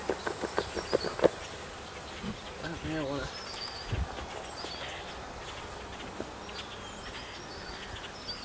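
Honey bees buzz around an open hive during an inspection, a faint, steady drone with a few soft taps and knocks near the start and a brief murmur of voice.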